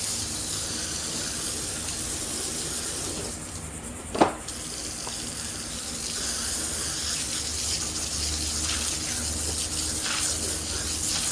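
A sponge brush used for cleaning tire rubber is rinsed under running water, producing a continuous close splashing spray broken by one sharp knock partway through.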